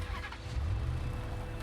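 A car in the video game Dust Raiders pulling away, with a steady low engine rumble that swells slightly and holds throughout the short stretch, fairly close and loud, with no voices over it.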